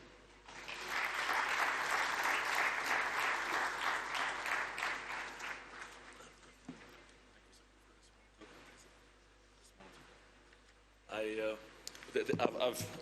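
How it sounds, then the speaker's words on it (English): An assembly audience at the CAF 46th Ordinary General Assembly in Addis Ababa applauds the CAF President, loud sustained clapping for about six seconds that fades out, followed by scattered speech and a brief short burst of clapping. "Can we clap once more for the President?"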